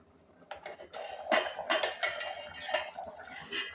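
A metal lid lifts off a pot of simmering fish curry, a run of clanks and scrapes of metal on metal, close and moderately loud, with no talking.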